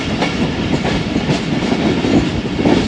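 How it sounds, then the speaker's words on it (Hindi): Khyber Mail train rolling slowly through Jia Bagga railway station in thick fog in Punjab, with a loud, dense rumble of wheels and coaches and steady rhythmic clatter, no voices. "जिया बका रेलवे स्टेशन और स्लो स्पीड में ही थ्रू पास कर रहे हैं यहाँ से"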